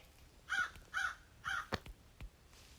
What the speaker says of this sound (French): Le corbeau a chanté.